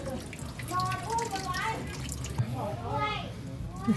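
Tap water runs and splashes over a rubber part while a Samsung top-load washing machine is repaired, a steady close wash of water with someone talking over it.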